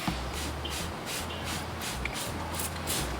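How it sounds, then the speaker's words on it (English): Non-toxic weed killer sprayed onto a thistle outdoors on a lawn, a steady close hiss of spray lasting the whole moment with faint rustling over a low background rumble. "we'll just give these another spray here and see if that does anything more to them"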